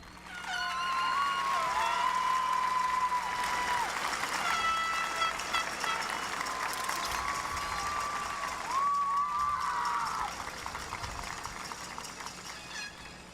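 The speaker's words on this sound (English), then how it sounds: "If we can give him a round of applause, please" Audience applause for Rolando Badillo Jr. at the Weslaco High School graduation ceremony, a fairly distant sustained clapping with whistles and cheers mixed in, tapering off toward the end.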